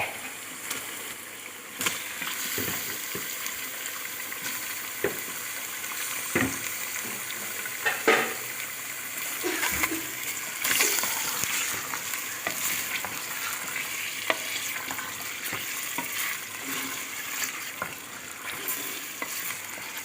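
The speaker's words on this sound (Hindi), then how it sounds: "2 कप ऑयल में मैंने प्याज और लहसुन डाल के भूनना स्टार्ट कर दिया है" Onions and garlic fry in about two cups of oil with chicken pieces going in for biryani. A continuous close sizzle runs throughout, with intermittent stirring clatter and occasional sharper pops.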